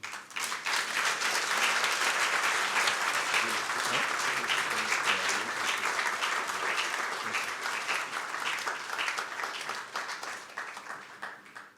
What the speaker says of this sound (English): Please give them a big round of applause, ladies and gentlemen.